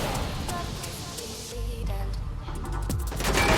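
Gunfire in the PUBG video game comes as bursts of sharp shots, some clustered into rapid volleys, over a background of game sound and faint voices.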